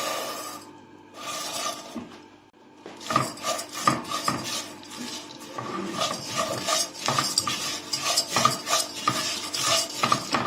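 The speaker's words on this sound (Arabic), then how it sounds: "هفضل اقلب كده حبايبي معايا عشان تاخد كلها لون واحد" Vermicelli frying in country butter in a pot is stirred with a utensil, giving repeated scraping and clinking strokes over a soft sizzle, close and moderately loud after a quiet start.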